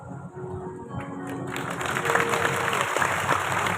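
A satsang crowd claps for Guru Maharaj ji at an ashram inauguration, with dense applause that starts scattered and swells into a fuller, sustained round with a few voices mixed in.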